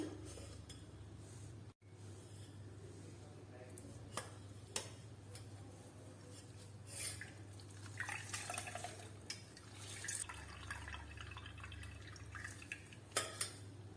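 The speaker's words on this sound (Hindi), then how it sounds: "इसका पानी निकाल लेंगे।" Water drains from homemade tofu curds made from soy milk curdled with vinegar, producing faint, close, irregular drips and small trickles with occasional light clinks.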